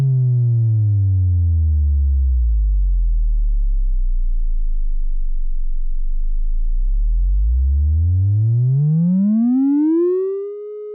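Pure sine wave oscillator tone from a VCV Rack modular patch, smooth and steady, sliding down to a low hum, holding there, then sweeping back up in pitch before cutting off, with no other sound.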